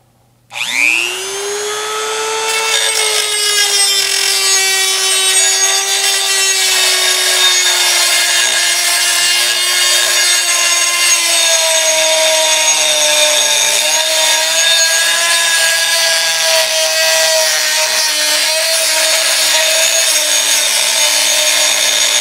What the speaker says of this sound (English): Did a little bit of grinding with that cutoff wheel